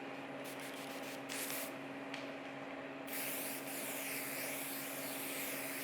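A paint spray gun lays a third coat on a quarter-scale Aquaman statue, giving a soft, steady airy hiss that cuts in and out in short bursts before settling into a longer continuous spray.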